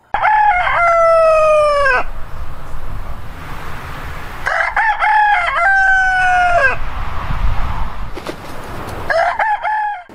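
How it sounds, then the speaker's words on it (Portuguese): A rooster crows loudly and close by, three times in drawn-out rising calls separated by pauses, with quiet ambient noise between them. "Um galo cantando?"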